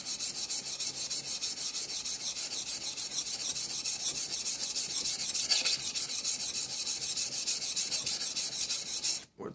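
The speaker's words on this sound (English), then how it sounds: "You're watching me sharpen." The blade of a Chinese bao jack plane is sharpened with rapid back-and-forth rasping strokes in a fast, even rhythm, close and continuous, stopping abruptly just before the end.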